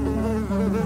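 A housefly buzzing close by, a continuous droning hum that shifts pitch slightly as it moves.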